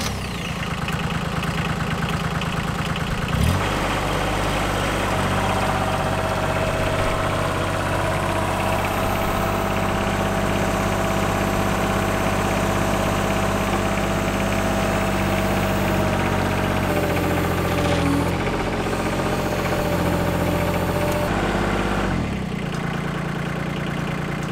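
Mini excavator with a thrown track, engine idling with a steady low drone and rattly vibration, a loud clunk near the start, the pitch shifting slightly midway, no talk.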